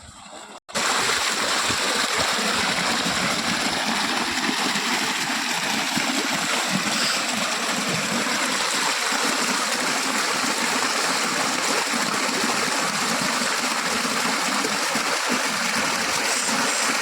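Water runs in a village irrigation canal, a steady rushing flow with splashy texture that stays loud and constant at close range after a brief quieter moment at the start.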